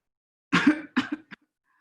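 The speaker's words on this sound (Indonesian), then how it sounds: "Batuk lama lebih dari 2 minggu" A single person coughs twice in quick succession, close and clear, followed by a short faint cough, then silence.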